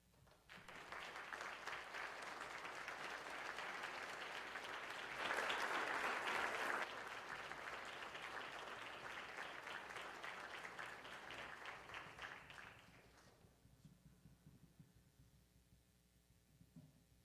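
Sustained audience applause at a World Affairs Council of Philadelphia event welcoming Steve Bannon, a full even clatter of many hands lasting over ten seconds, swelling briefly near the middle and then thinning out.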